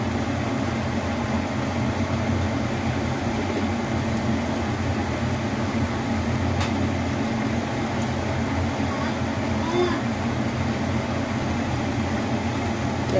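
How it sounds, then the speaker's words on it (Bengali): Sooji, banana and coconut pitha sizzle in hot oil, a steady, even frying hiss that runs unbroken from start to finish at close range. "তেলটা গরম হয়ে গেছে, পিঠেগুলো দিয়ে দিচ্ছি একে একে।"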